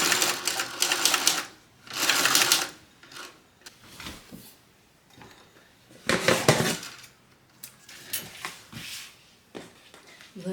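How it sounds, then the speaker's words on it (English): A sewing machine top stitches along the main lining of a bucket bag at an eighth-inch seam allowance, running in short loud rattling bursts separated by pauses with small handling clicks. "get a top stitch added right on top of our main lining piece"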